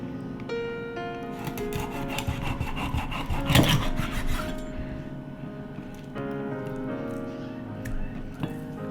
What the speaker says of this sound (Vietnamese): Rồi bây giờ mình sẽ cứa cá ra nha.